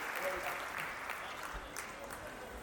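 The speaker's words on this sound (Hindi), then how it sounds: "मैं चाहता हूँ एक बार जरा जोरदार तालियां बनाइए" At a Hindi poetry gathering, the audience gives a brief burst of applause. The clapping is soft and fairly distant, a dense even patter lasting a couple of seconds.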